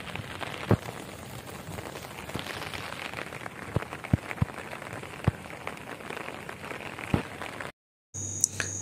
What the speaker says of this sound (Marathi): पाऊस आता जोरात येलो